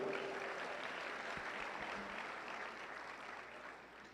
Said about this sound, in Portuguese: Um aplauso a Jesus pela vida dela.